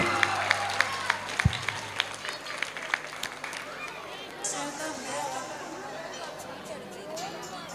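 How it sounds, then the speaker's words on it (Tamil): At a primary school annual day, scattered audience clapping rings out for students, then thins into a murmur of crowd chatter and people talking. "எல்லாம் கிளாப் பண்ணுங்க. மாணவரை உற்சாகப்படுத்துங்க கைத்தட்டி."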